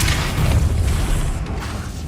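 Depulso spell cast in Hogwarts Legacy, a loud deep rumbling boom with a dense magical whoosh that fades slowly over two seconds.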